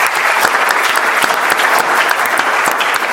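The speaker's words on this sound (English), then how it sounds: "just a huge round of applause, please, for Professor Carol Peden" Dense, steady applause from a crowd for Professor Carol Peden at a medical roundtable Q&A, close and even in loudness, with scattered sharper claps throughout the short burst.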